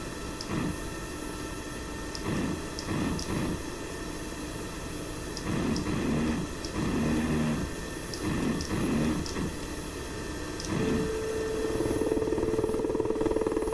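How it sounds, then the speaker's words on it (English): A Mi-8MTV transport helicopter in a flight-combat video game. Its steady rotor and turbine drone fills the clip without pause, with a few sharp ticks and a rising tonal whine near the end. "It's a pretty nimble helicopter for the size it has."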